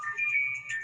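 Mobile phone ringtone going off during a radio show, a short bright electronic melody of sustained beeping tones, clear and close, lasting under a second.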